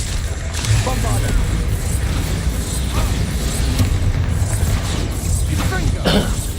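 Bombarda blasting spell explosions in Hogwarts Legacy, a dense run of booming bursts and crashes over constant loud battle noise, with no clear gap between impacts.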